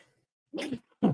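A person sneezes during a sports talk show: a short sharp inhaled burst followed by a second explosive sneeze, close and alone against silence.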